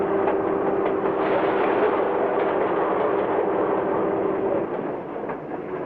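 A freight train rolls along the rails at speed in the 1950s era, a continuous loud rumbling roar with a steady hum, easing slightly toward the end.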